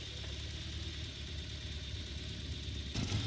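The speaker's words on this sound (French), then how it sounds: "J'ai adoré le bruit de cette Harley" Harley-Davidson Fat Boy motorcycle engine idles steadily with a low, even rumble, close by, then swells briefly near the end.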